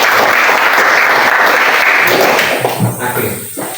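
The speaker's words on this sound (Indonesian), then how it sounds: "Kita tepuk tangan sekali lagi." A classroom group presentation ends in loud, sustained clapping from a seated audience, thinning out and fading toward the end.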